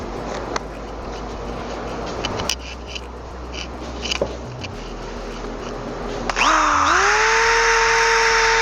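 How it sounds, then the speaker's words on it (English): A power sander works across the tops of four wooden floor joists for a garden bridge outdoors, a steady close motor buzz with brief pauses and knocks, then rising into a louder, higher sustained whine near the end. "what I'm doing now is kind of sanding across the top to get them all exactly even."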